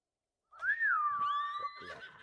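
A horse in the video game Ghost of Tsushima answers a call with a single clear, whistling neigh that rises and wavers for about a second and a half, heard close and alone.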